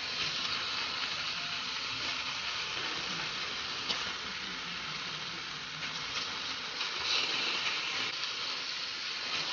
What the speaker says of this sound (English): I added some mince into a heated pan and I fried it down until the liquid started to come out